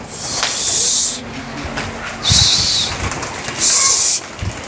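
Three loud bursts of hissing, flapping pigeon wings as the birds are shooed to fly, each about a second long, with soft cooing and rustling in between.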